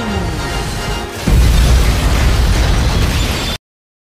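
A loud explosion from a Matrix movie scene, with a security post blown up: a sudden heavy blast about a second in, followed by a sustained roaring rumble that stays strong until the sound cuts off abruptly.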